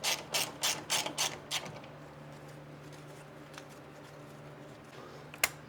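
A ratchet wrench clicks rapidly in several quick bursts, backing out 10mm bolts from the coolant expansion tank of a BMW 335, close and crisp, then fades to quiet with one sharp tap near the end.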